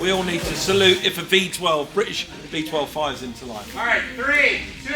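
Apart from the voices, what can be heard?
No everyday noises stand out.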